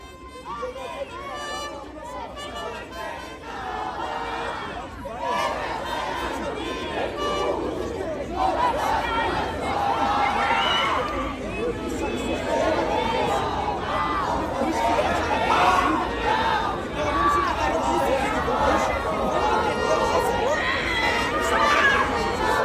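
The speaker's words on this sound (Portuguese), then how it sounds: "Torcida pedindo a movimentação dos jogadores" A large crowd of Flamengo supporters at a stadium in SC keeps up a dense, loud roar of shouting and cheering, swelling gradually and holding steady to the end.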